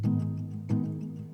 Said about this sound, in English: the first element that I added back in the melodic section was a rhythm guitar that played the exact same chords from the piano